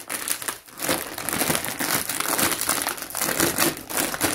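A crinkly plastic karate snack bag is torn open and handled close up, giving loud continuous crackling and crinkling without a break.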